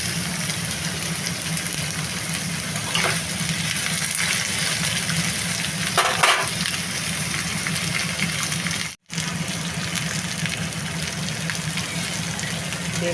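Pumpkin chhokka with potato, onion and green chili cooks in a pan, giving off a steady, even sizzling hiss that runs the whole time, broken only by a brief dropout partway through.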